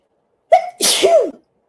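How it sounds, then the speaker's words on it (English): A single loud sneeze, close up, with a sharp inhaled onset followed by a forceful burst and trailing exhale. "Boy, that was a sneeze."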